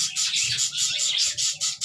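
Budgerigars in a breeding room chirp and squawk in a steady, busy chorus of bright overlapping calls, fairly close and continuous, with light cage rustling underneath.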